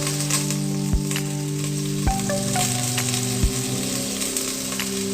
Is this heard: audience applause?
no